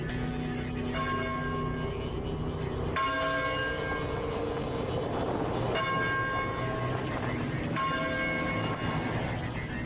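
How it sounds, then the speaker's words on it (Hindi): Church bells ring in several strong, evenly spaced tolls that sustain and overlap, loud and resonant against a steady low background rumble, with no talking. "क्या ये चर्च की घंटी है?"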